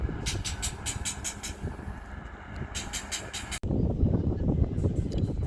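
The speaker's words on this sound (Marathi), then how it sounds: "मित्रांनो, ट्रेन निघत आहे आता." A train rumbles at Beed railway station, with rhythmic clanking of wheels over rail joints early on, then a louder rolling roar as it moves off.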